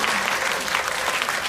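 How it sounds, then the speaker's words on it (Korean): Audience applause fills a cinema auditorium during a guest-visit screening of a film, a dense, steady wash of many hands clapping at close range without pause. "여러분 박수 한번 주시면 좋겠습니다"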